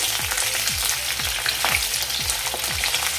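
Okra (bhendi) fries in a pan with a steady close sizzle, punctuated by regular rhythmic scraping strokes of stirring roughly twice a second.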